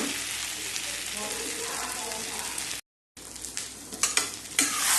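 Egg is stirred in a hot frying pan, with a constant sizzle and scraping that cuts out for a moment, then returns with louder clinks and spatters near the end.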